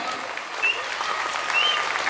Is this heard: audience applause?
yes